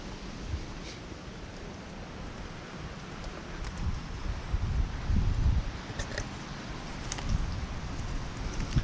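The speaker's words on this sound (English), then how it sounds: "It is quite windy today." Wind gusting across open chapel ruins, a steady broadband rush with low rumbling buffets swelling midway, no voices.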